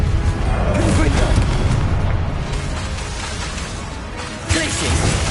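Fiery spell blasts from Hogwarts Legacy combat, a Confringo explosion booming loud and close amid dense battle noise, with a fresh burst near the end.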